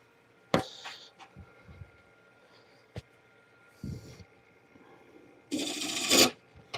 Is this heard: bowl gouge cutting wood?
yes